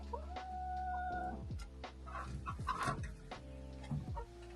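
Hens cluck and squawk in a busy, overlapping chorus close by, with a low steady hum underneath.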